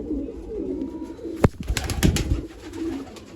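Pigeons coo softly in low rolling phrases amid a loose pigeon flock, with a sharp nearby clap or flutter and a few quick knocking sounds in the middle, then quieter cooing again.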